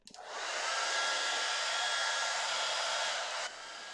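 Hair dryer blowing steadily over watercolour paint, a loud, close, continuous whoosh that starts abruptly, holds for about three seconds, then drops slightly in level near the end, with no talking.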